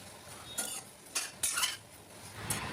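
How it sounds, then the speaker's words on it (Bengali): Soybean chunks and potatoes being stirred with masala in a pan, a few separate scraping clinks of a spoon against metal, close and fairly faint, spaced about a second apart. "সয়াবিন আর আলুগুলোকে একটু ভাজা ভাজা করে নিয়ে তার ভেতরে মশলাটা একটু বেশি করে দিয়ে একটু কষিয়ে"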